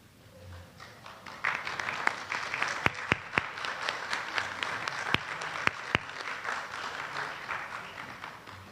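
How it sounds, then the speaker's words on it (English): An academic symposium awards audience applauds student presenters and mentors, a moderate crowd clapping in a steady patter with several sharp, distinct nearby claps standing out, building after a quiet start and fading slightly at the end. "Student presenters and mentors, please stand so that we may recognize you with a round of applause."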